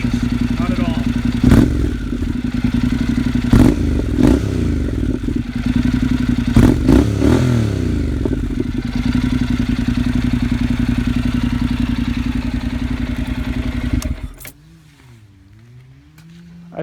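A 2013 Honda NC700X idles and revs through a Dan Moto aftermarket exhaust, a close, throaty, steady rumble broken by sharp throttle blips, before the engine cuts off and near quiet remains.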